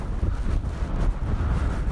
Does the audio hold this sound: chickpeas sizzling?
no